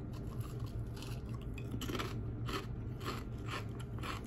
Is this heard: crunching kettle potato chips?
yes